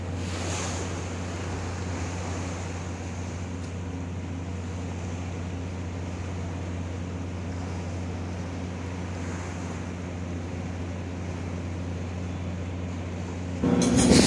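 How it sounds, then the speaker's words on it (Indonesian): Big sea waves at Taboneo off Banjarmasin on an overcast morning, a continuous loud wash of surf with wind and a low droning hum, steady throughout and swelling at the very end. "untuk situasi Tabune ombak besar ya Mas Boy"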